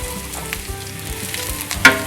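Red onion and garlic sweating in a pan over medium-low heat, giving a steady soft sizzle with faint crackles and one sharper pop near the end.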